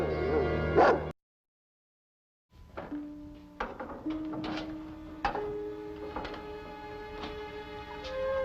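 A dog gives a few sharp barks and yips, followed by a whimper, close by and set among room sounds and brief speech.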